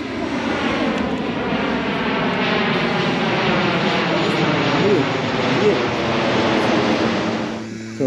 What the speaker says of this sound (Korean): 여기 진짜 청주공항 앞이라서 비행기 엄청 많이 와 여기.